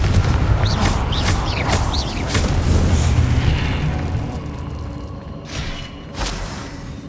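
Confringo blasting spell in Hogwarts Legacy, with several loud booming explosions and thuds in rapid sequence, then a quieter tail and one more burst near the end over a continuous low rumble.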